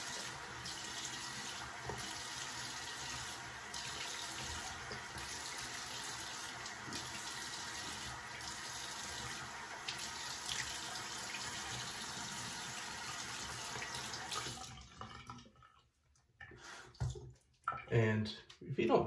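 A tap runs water steadily and close for a final rinse after a shave, a constant gushing stream that cuts off abruptly near the end, followed by scattered splashes and handling noises.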